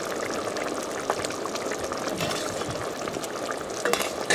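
Hardtack pieces drop into a hot pan and water is poured over them, setting off a steady, loud sizzle and bubbling with scattered crackles and liquid splashes throughout.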